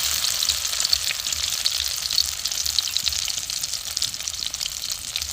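Spinach and small prawn kofta balls frying in oil in a pan, a dense, steady crackling sizzle with fine popping, close and continuous without pause.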